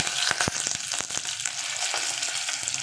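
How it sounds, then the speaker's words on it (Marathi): Mustard seeds, cumin and curry leaves sizzle and crackle in hot oil for a Malvani-style usal, a dense, steady frying hiss scattered with sharp popping seeds, close and loud throughout. "मोहरी घालत आहे नंतर जिरं घालत आहे कढीपत्त्याची पाने घालत आहे"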